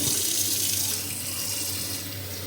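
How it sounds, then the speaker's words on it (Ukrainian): A tap runs steadily into an electric kettle, a close, continuous rushing splash of water that stays even throughout, with no talking. "Включаємо нашу воду,"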